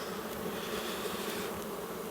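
Honey bees buzz steadily at an open spring hive during a frame inspection, a dense continuous drone filling the whole stretch with no voices.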